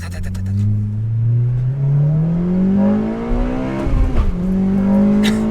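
An 8th gen Honda Civic Si with a 3-inch full race catback exhaust pulls hard through first gear, its loud engine note climbing steadily in pitch and then dropping briefly at the shift, heard from inside the car.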